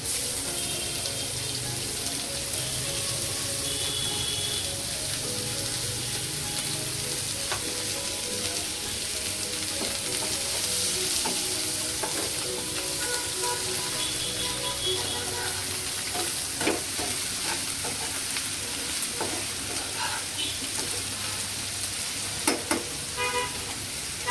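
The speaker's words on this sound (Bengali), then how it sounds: "যে কুচানো পেঁয়াজটা ছিল সেটা বেরেস্তা ভেজে নিচ্ছি।" Chopped onions sizzle steadily in hot oil, a constant crackling fry with occasional stirring clatter and scrapes near the end.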